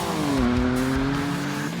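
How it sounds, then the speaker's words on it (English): A sports car spins its wheels at launch, giving a loud, close, sustained tonal squeal and engine roar whose pitch dips and then holds steady. "Oh, wheel spin, wheel spin, wheel spin."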